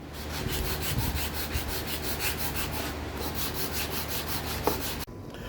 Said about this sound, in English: Alright, so the handle is sanded.